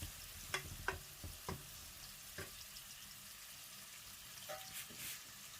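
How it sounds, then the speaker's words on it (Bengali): Onions frying slowly in a pan for a home-made chicken and fish curry, a soft steady sizzle with a few clinks and scrapes of stirring near the start and one more later. "পেঁয়াজ দিয়ে আস্তে আস্তে একটু জাল দেবো"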